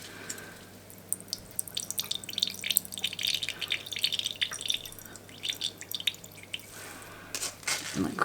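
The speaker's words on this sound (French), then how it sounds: "Mais on vient bien presser pour retirer, vous voyez, tout l'eau qu'il y a dedans" Grated cucumber squeezed by hand to wring out its water gives wet squelching and dripping splashes in uneven bursts, close up in a quiet kitchen.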